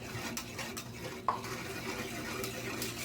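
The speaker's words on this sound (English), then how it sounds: "we'll go ahead and stir that up" Spoon stirring raw milk caramel as it cooks down in a pot, a steady scraping swish with faint sizzling and one sharp clink of utensil against the pot partway through.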